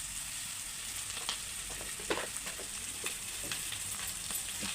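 A frying mixture seasoned with salt and coriander powder gives a steady, close sizzle while it is stirred, with occasional soft scrapes and taps of the spoon and no voices.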